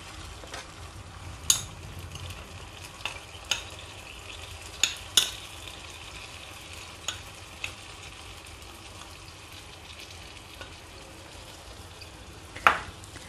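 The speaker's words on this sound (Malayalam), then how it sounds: "അങ്ങനെ ഞാൻ പഴം നെയ്യിൽ 2 സൈഡും ഒന്ന് മുരിച്ചെടുത്തിട്ടുണ്ട്. ഇനി നമുക്കിതിൽ കുറച്ച് ശർക്കര ഉരുക്കിയതും കൂടി ചേർത്ത് കൊടുക്കാം." Banana pieces fried in ghee sizzle softly in a pan while melted jaggery is added and stirred, a steady low crackle broken by occasional clinks of a spoon against the pan.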